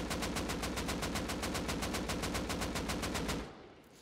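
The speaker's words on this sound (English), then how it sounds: "Here's our AK script on Razer. So I'll do the full mag first." An AK rifle in the video game Rust fires a full magazine in one sustained automatic burst of evenly spaced loud shots that stops abruptly near the end.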